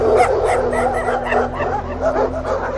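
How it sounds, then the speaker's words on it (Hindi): Several dogs bark and yip repeatedly at a moderate distance, some whining among the barks, over a low background hum. "उसने पास के गांव से कुत्तों के भौंकने की आवाज सुनी"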